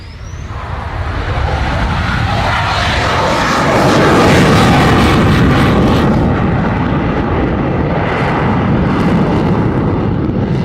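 A Belgian Air Force F-16 jet flies at an airshow, a loud, broad roar that swells and builds to a thunderous peak before slowly fading as the fighter passes.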